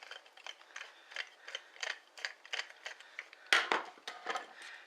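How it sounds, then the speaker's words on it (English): Screws being undone underneath a Traxxas 2075 servo, a series of small rhythmic ratcheting clicks from a screwdriver at close range, fairly quiet, ending in a louder clatter. "You're going to undo all 4 screws underneath here."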